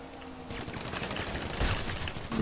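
Rapid bursts of video game gunfire from a multiplayer shooter match crackle in quick succession, with a heavier volley near the end, fairly loud and close.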